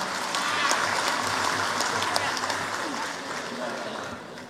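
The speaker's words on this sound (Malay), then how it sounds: "Berikan tepukan kepada mereka." Audience applause filling a hall during a political gathering, dense steady clapping with a few voices mixed in, gradually easing toward the end.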